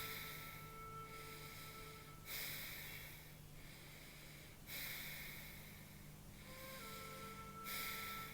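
Slow, audible breathing through the nostril during a guided breath exercise, three long airy inhales and exhales in a calm, even rhythm over a faint steady hum.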